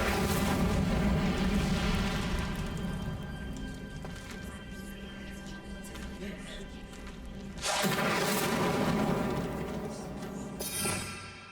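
An Incendio fire spell is cast in Hogwarts Legacy, giving loud whooshing bursts of flame over rumbling game ambience, with a sharper blast near the end while a voice speaks.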